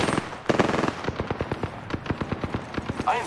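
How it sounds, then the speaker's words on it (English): Rapid bursts of automatic gunfire aimed at the player in a video game, a fast rhythmic string of shots, fairly close and moderately loud. "I'm spotted, taking fire."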